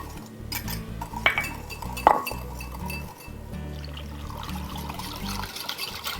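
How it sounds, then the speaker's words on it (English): Rice vinegar and sugar whisked together in a bowl, a utensil clinking and scraping against the sides with a couple of sharper taps, steady and close with no talking. "So you just want to whisk the rice vinegar and sugar together until that sugar is dissolved."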